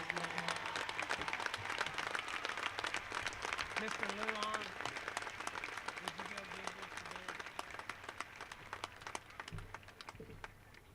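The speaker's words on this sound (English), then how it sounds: "Would you please give a round of applause for Ben" An audience at a high school graduation ceremony for the class of 2018 breaks into broad, sustained applause that fills the hall, fading gradually, while a voice briefly speaks over the clapping.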